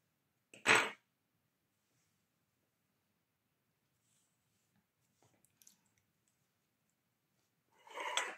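Scissors snip through long strands of embroidery thread, cutting them in two: two short, crisp, quiet snips close by, several seconds apart, with a few faint small clicks in between and no talking.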